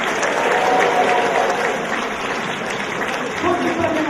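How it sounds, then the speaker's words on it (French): Applause for the Miss contestants at the Miss Orléanais 2014 pageant: a dense, sustained wash of crowd clapping with voices mixed in, steady and fairly loud throughout. "on peut encore en applaudir s'il vous plaît, applaudir les Miss de la Fédération"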